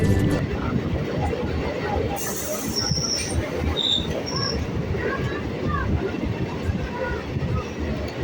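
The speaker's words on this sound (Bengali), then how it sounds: "আমাদের ট্রেনটা এই মুহূর্তে ঢুকছে হাবড়া স্টেশন" A train rumbles steadily into Habra station, India, with rattling wheels and brief high metallic squeals, while faint voices murmur in the background.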